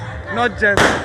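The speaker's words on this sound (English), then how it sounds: "So yes, what you heard was a gunshot." A gunshot fired outdoors during the Krufie yam festival in Bredi, Ghana, lands as a single sharp crack at the end of a short stretch of speech, loud and close.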